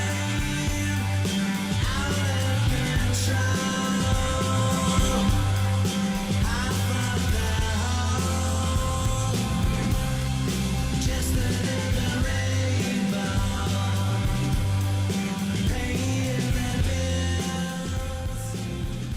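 A full-band rock song plays loud and steady with driving bass, drums and guitars throughout.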